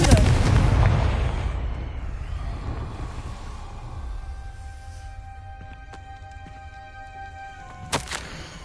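A Confringo fire spell in Hogwarts Legacy goes off as a heavy, booming explosion that rumbles loudly and slowly fades, with a brief sharp crackle returning near the end.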